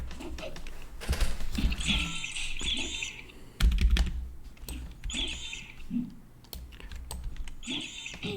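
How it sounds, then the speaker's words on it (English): Computer mouse and keyboard clicks while playing EverQuest, a close, irregular run of sharp taps and clacks in bursts, with soft game sounds and chirps in the background. "mouse clicks and keyboard clicks. Turns out a lot of people enjoy the click sound."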